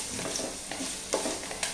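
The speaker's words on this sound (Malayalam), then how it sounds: "എന്നിട്ട് നമ്മുടെ ആ തിളച്ചുകൊണ്ടിരിക്കുന്ന കറി ഇതിലോട്ടങ്ങ് ഒഴിക്കും." Boiling curry for theeyal poured into browned onions in a pan, giving a steady close sizzle with a few louder bursts as it hits the hot pan and is stirred.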